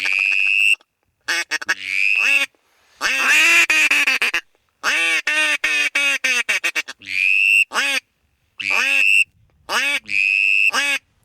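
A drake call on a duck hunt in Yakutia, Siberia, is blown to mimic a background flock: bursts of raspy quacks run in rapid strings and short single calls, loud and close, with brief silences between the series.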